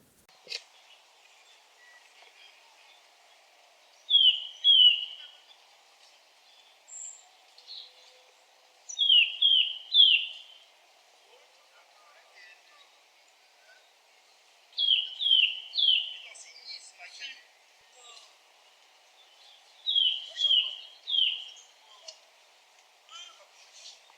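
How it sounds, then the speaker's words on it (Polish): A Eurasian nuthatch sings in a forest, with four separate bursts of rapid, repeated clear whistled notes separated by quiet pauses. "I teraz właśnie nadszedł czas na posłuchanie śpiewu kowalika zwyczajnego."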